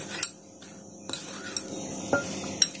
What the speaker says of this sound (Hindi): तो अब हम इसमें ये गेहूं का आटा ऐड कर देते हैं और इसको अच्छे से मिक्स कर लेंगे।